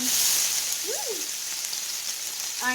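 Steady sizzling of meat and chopped onion frying in a pan, a constant crackling hiss, with brief whistle-like tones rising above it.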